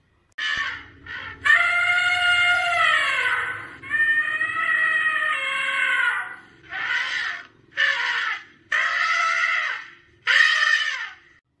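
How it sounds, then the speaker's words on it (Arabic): A series of loud, brassy trumpeting blasts, a couple long and wavering, then several short sharp calls separated by brief pauses. "يلا بينا نسمع صوت الفيل"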